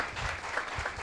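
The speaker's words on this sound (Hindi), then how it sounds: "एक ताली बजाकर प्रभु का धन्यवाद कीजिए कि हमारी सांसें चल रही हैं।" A worship congregation claps together in thanks to God, a short, full burst of many hands that sounds close and fairly soft.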